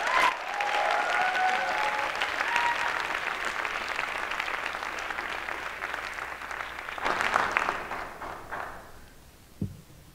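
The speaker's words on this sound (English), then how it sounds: "please give her a warm round of applause" A keynote audience at a conference gives a warm, sustained round of applause, loud and even at first, then thinning and fading out, ending with a single soft thump.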